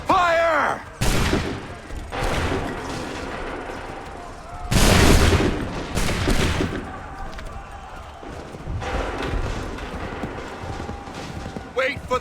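Musket volley fire in the video game Assassin's Creed 3 crashes out in loud bursts, a heavy mass volley near the middle and sharper shots around it, while shouted commands and battle noise carry between them.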